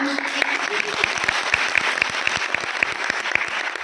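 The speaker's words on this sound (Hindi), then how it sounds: "सभी विद्यार्थियों का थोड़ा कम धन्यवाद की तालियां थोड़ी कम बज रही हैं" A seminar audience at a college gives rapid, fairly light applause for students, a continuous patter of clapping with a voice briefly heard at the start.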